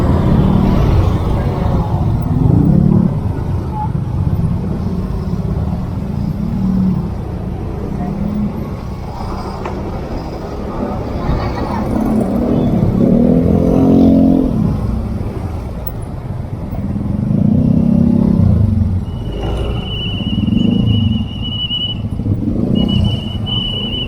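Jammed traffic on Jalan Bojong Soang: a continuous rumble of idling and creeping cars, trucks and motorcycles, with engine surges rising and falling and a brief high-pitched tone near the end.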